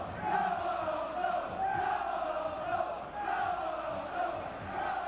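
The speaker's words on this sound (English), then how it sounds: "Arsenal's faithful cheering the lads on." Arsenal supporters cheer and chant inside a football stadium during a cup match against Bradford City, a loud, sustained crowd roar that rises and falls in waves throughout.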